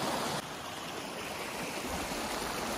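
A mountain river (khola) in Nepal rushing steadily nearby, a dense continuous watery roar with no voices, slightly louder for a moment at the very start.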